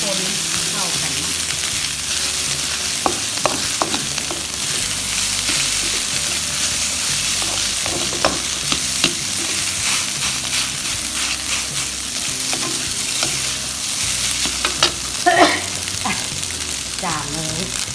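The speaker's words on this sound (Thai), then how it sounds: "หลังจากนั้นเนาะก็จะใส่ส้มหมูที่เขาซอยเก็บไว้เนาะส้มหมู ก็จะคนเข้ากันเนาะ" Fried rice with sliced sour fermented pork (som moo) stirred in a hot pan: a steady, close sizzle runs throughout, broken by repeated scraping and clattering strokes.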